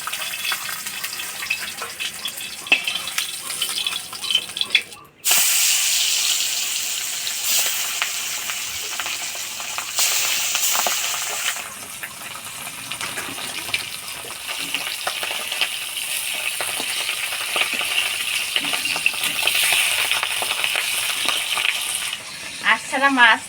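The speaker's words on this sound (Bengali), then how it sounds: "এবার মাছগুলা ভাজি নিব। কড়াই গরম হয়ে গেছে, দিয়ে দেব তেল।" Pabda fish fry in hot oil in a heated kadai, giving a continuous crackling sizzle with spatters that briefly cuts out and then resumes, while a voice talks over it at times.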